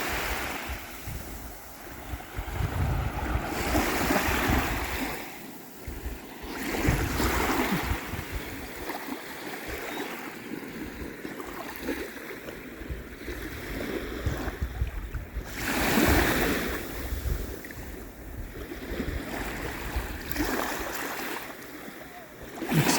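Sea waves wash in and recede at a seaweed-strewn shore near Visby, Gotland, surging in slow rolling swells amid gusting wind noise on the microphone, with no voices.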